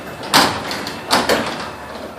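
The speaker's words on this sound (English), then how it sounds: "That's the Wayne Dalton garage door with the 8550." A 10 by 7 Wayne Dalton vinyl garage door closing on a LiftMaster 8550 opener gives two distinct clunks about a second apart over a low, steady background.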